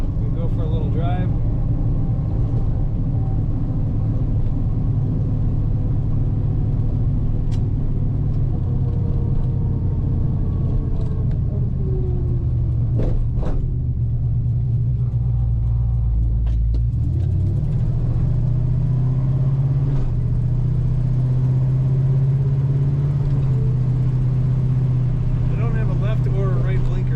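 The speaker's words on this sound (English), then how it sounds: "Smooth runner. Sounds good. Nice and quiet. Just that rumble." A 1968 Plymouth Barracuda's engine rumbles low and steady on the move, a smooth continuous drone with a brief throttle swell midway, while someone talks over it throughout.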